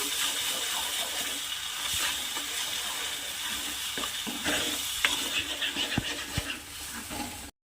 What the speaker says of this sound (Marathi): हे टोमॅटो बारीक केलेलं आहे ते ॲड करू छान मिक्स करायचं